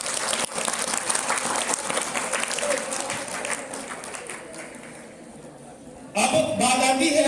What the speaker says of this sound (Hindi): एक बार तालियां हो जाए धन्यवाद के बाद।